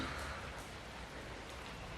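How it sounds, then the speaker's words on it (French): Steady rain falls outdoors in a dense, even hiss of drops on surfaces, faint and continuous with no voices. "On va tranquille sous la pluie."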